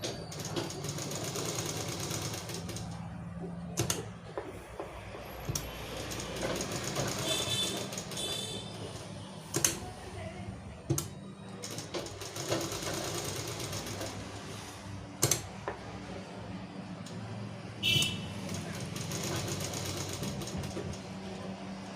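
A domestic sewing machine stitches steadily through a beginner tailoring lesson, a continuous mid-level mechanical whir with a few sharp clicks and knocks scattered through it, fairly quiet and with no voices over it.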